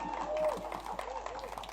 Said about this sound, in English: I would like to give Mr. Keith Barnes a clap there